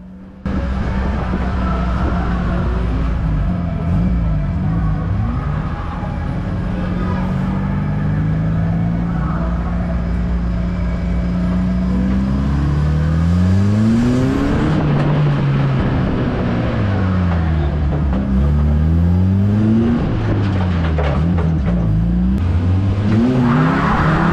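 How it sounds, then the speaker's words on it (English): A race car launches at the start of a heat with wheel spin. The engine is loud and close, revving hard through repeated rising and falling gear changes for the whole stretch, with no talking. "I'd got a bit more wheel spin than I would have liked off the start."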